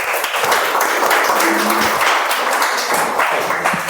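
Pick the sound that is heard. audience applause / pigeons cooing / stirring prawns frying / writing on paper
audience applause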